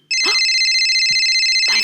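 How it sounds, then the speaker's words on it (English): Telephone ringtone trilling steadily and loudly at close range, a continuous bright electronic ring with brief voices over it. "phone is ringing."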